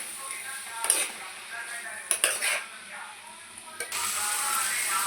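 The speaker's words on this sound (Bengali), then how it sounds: "আবারও ভালো করে একটু কষিয়ে নেব মশলার সঙ্গে" Spices and cham grass stalks are stirred and scraped in a metal pan, giving a few sharp clanks and scrapes of utensil on metal between quieter sizzling stretches, close up.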